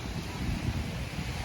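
Steady wind buffets the microphone on a beach in Boracay, a continuous close rushing roar with no voices.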